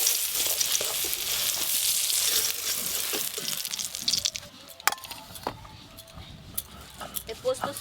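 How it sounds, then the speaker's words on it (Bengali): Lightly fried brinjal slices sizzle in oil with a loud, steady hiss that fades midway, then gives way to scattered utensil clinks and scrapes as the pieces are lifted out, with someone talking over it. "বেগুনগুলো একদম হালকা করে ভেজে নিয়েছি,"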